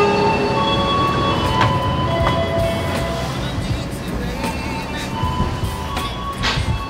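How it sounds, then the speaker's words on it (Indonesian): A Baturraden Express train locomotive at Bandung station gives off a loud, steady engine drone with faint squeals and clanks, and a person talks over it. "ini dia lokomotif yang akan melayani perjalanan kereta api Baturaden Express"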